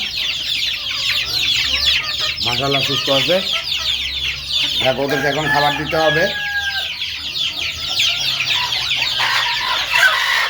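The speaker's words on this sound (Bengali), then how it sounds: "আর এখানে কিছু পোষা মুরগি আছে আর কিছু ডিম পারবে।" Domestic hens and chicks cluck and peep close by in bursts over a constant background chatter of chirping, while a person speaks briefly among them.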